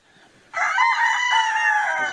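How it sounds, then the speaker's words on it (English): Chickens behind a backyard workshop let out a long, loud crow mixed with clucking, one sustained call close by with no talk over it. "You can hear these chickens back here hollering."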